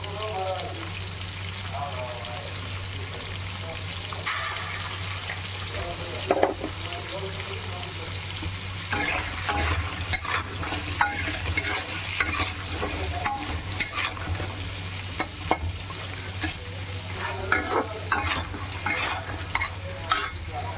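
Sea crab sizzles and fries in a pan while being stirred, with steady scraping and clinking of the spoon over a constant hiss of hot oil, close and moderately loud.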